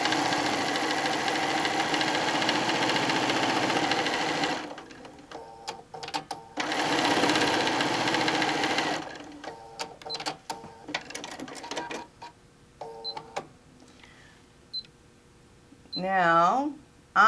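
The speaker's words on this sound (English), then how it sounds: "we're going to sew all the way down." A sewing machine stitching quilt fabric runs in two long loud bursts of rapid steady whirring, then shorter starts and stops with clicks and pauses, while a person talks intermittently nearby.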